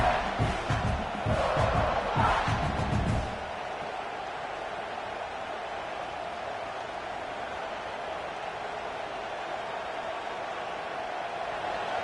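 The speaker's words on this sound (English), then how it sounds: "This crowd trying to make life miserable for this offense." Stadium crowd roaring at a Texas A&M versus South Carolina college football game, loud for about three seconds and then settling into a steady distant rumble of noise.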